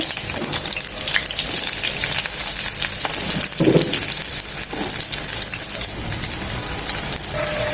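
Steady, loud sizzling of half a cup of chopped onions frying in about two spoons of hot oil in a kadai, a continuous crackling hiss throughout with occasional stirring, no talking.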